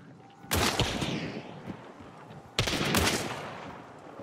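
Two sharp, loud Officer Carbine rifle shots from the Hunt: Showdown game, spaced about two seconds apart, each with a broad blast and a long reverberant tail fading into a quiet hum.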